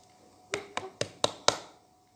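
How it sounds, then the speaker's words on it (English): Knocking on a table or wall, five distinct sharp knocks at a steady, slightly quickening pace, close and clear against a quiet background. "You can knock on the table or on against the wall."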